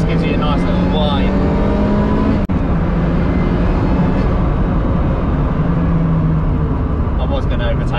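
Vauxhall VX220 Turbo driving with a steady loud engine drone and a faint high turbo whine running over it, heard from inside the cabin with road noise and a sharp click partway through.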